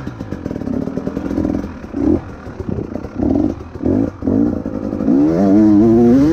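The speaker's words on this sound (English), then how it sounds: "Revving it now" A 2019 KTM 300 Six Days TPI dirt bike engine revs in repeated bursts close by, then climbs into a long rising rev at the end.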